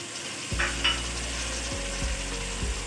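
Chopped tomatoes hit hot oil with frying garlic and onion for turai sabzi, a sudden sizzle followed by steady crackling frying and a few scraping stirs of the spoon, close and clear.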